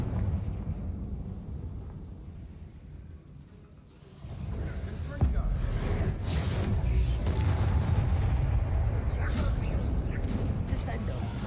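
A fire-blast spell in a wizard video game bursts with a heavy boom, then a loud, sustained rumbling roar follows for several seconds.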